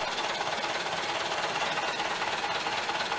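Uncle Rudy's old engine runs after a warm start, a steady rapid chugging with a busy mechanical clatter, close and fairly loud, without talk.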